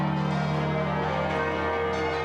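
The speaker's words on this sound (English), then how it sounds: "The bells at St Paul's Cathedral rang out for an absent guest of honour" Church bells pealing at St Paul's Cathedral in London, a steady continuous wash of overlapping tolls with a dense resonant hum beneath, loud and sustained throughout with no voices.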